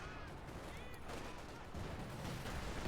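Machine-gun fire rattles through a dense, chaotic battle in Company of Heroes 2, an OKW versus Soviet match, with continuous gunfire and explosions layered over one another at a steady loud level.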